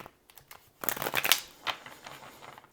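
Tarot and oracle cards are shuffled by hand, a quick papery riffle building into a dense burst of flicks, then a few softer taps, close and fairly quiet.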